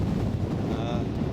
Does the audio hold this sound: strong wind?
yes